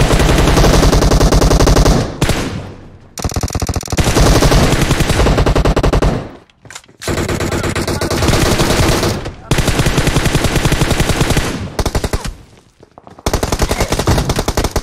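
Shotgun fire in PUBG Mobile comes in loud, close, dense bursts of rapid shots, separated by a few brief pauses.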